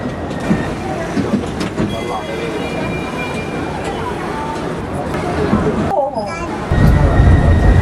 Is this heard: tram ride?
yes